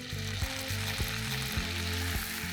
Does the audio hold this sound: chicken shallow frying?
yes